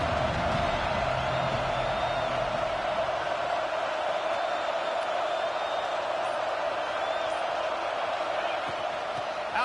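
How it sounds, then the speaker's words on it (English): A college football video game's stadium crowd roars steadily, a dense far-off wall of cheering that sits under continuous play-by-play commentary. "This crowd rising up, sensing that its defense needs some help."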